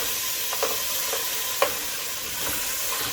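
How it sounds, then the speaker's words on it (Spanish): Onion sizzling steadily in hot achiote oil in a pan, a constant loud frying hiss with a few soft stirring clicks on top. "una vez que ha calentado ya el achote, ponemos la cebolla"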